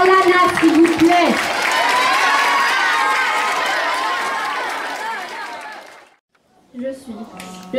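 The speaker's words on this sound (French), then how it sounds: "On applaudit très fort Lana, s'il vous plaît." School audience at a middle-school slam poetry event applauding and cheering loudly for a young poet, a sustained dense burst of clapping and shouts that fades out, followed by a brief pause and a few quieter sounds.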